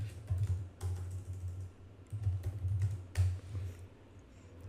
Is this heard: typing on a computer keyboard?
yes